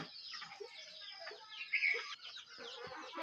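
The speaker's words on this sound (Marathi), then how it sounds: "सात ते आठ कोंबड्या आपल्या अंड्यांवर बसले आहे" Seven or eight hens brooding on eggs give soft, low clucks and murmurs close by, with one slightly louder call in the middle.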